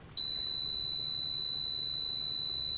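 A single steady high-pitched electronic beep from an automatic hair curler starts abruptly and holds at constant pitch without a break, loud and close over faint background hum.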